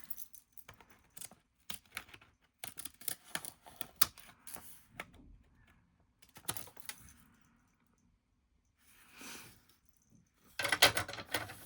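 Scissors snipping paper for a collage, in short irregular bursts of quiet crisp cuts with pauses between, close by, plus a louder rustle near the end.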